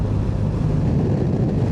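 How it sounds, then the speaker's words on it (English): Steady, heavy wind noise on a motorcycle ride in Bosnia buffets the microphone in a dense low rumble, loud and constant throughout with no voices. "Very windy too."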